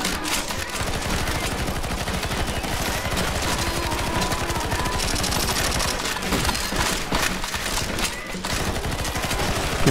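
Continuous rapid automatic gunfire in the shooter game CS:GO Zombies, loud and dense with bursts overlapping for the whole stretch.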